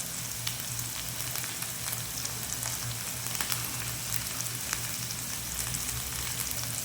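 Curry leaves dropped into hot oil in a pan while cooking a potato and dal kulambu sizzle and crackle steadily, a dense, even frying hiss with scattered small pops, close and continuous throughout with no talking.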